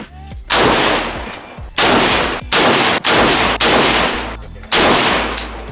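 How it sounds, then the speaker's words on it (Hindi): AK-47 rifle fire at a shooting range in Ho Chi Minh City: about six loud, sharp blasts, each followed by a ringing echo that fades before the next shot, with no voices. "एक बुलेट चलाई मैंने"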